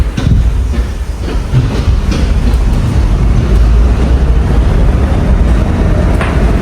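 A Budapest metro train runs loud and close, with a steady low rumble, wheel noise and clickety-clack from the rails throughout. No one speaks.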